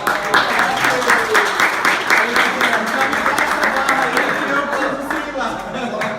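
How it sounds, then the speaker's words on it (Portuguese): An audience claps for a guest at a talk about sports competition and anxiety, with fairly loud, even applause and individual claps standing out, sustained throughout. "Palmas pro Juarez que veio aqui."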